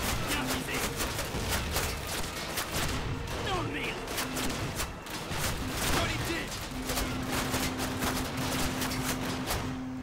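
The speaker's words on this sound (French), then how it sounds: "Qui me tire dessus?" Gunfire in the Call of Duty 1 game, rapid repeated shots crackling densely across the scene amid battlefield noise, with tanks nearby and a steady low hum underneath.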